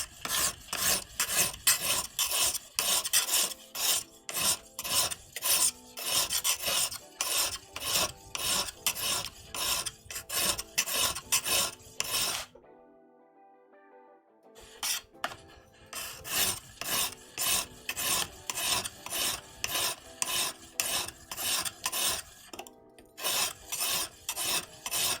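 A knife edge is worked with steady, rapid rasping strokes close by. The scraping keeps an even back-and-forth rhythm, breaks off in a short pause midway, then resumes.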